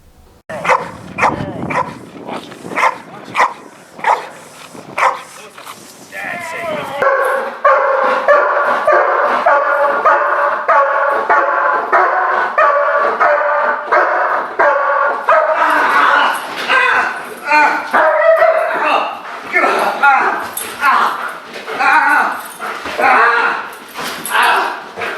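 Trained protection dogs bark and yip at a decoy, starting with scattered barks and whimpers, then a loud, sustained burst of rapid barking from several dogs, with voices heard among them.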